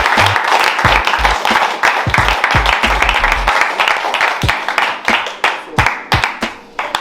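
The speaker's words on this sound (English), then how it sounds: "So give them a round of applause." A small audience at a Trench Town anniversary gathering gives a round of applause, close, loud and irregular, with individual claps and slaps standing out and thinning toward the end.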